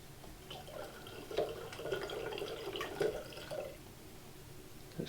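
Apple juice poured from a one-litre container into a mead (cyser) mixture, a steady close splashing trickle of liquid running for several seconds with slight swells, no talking.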